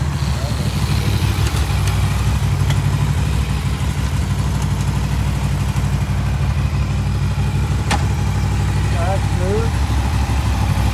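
Honda VFR800 motorcycle engine idling steadily close by after a chain and sprocket replacement, a smooth continuous low rumble with a brief faint sharp click partway through and a few distant bird-like chirps near the end.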